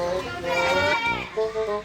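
A voice imitates a goat's bleat during a family trip to Cameron Highlands, giving a wavering, nasal two-part call that lasts under two seconds, close and fairly loud.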